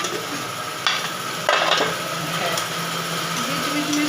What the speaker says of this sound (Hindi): बीच बीच में इसको चलाना भी पड़ता है सब्जी को।